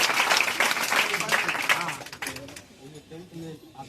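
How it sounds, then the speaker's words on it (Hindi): Loud clapping from a crowd of students at a school felicitation for those who passed intermediate exams, a dense burst that fades after about two seconds as a voice starts speaking. "इसलिए इस बार जोरदार ताली दे दी"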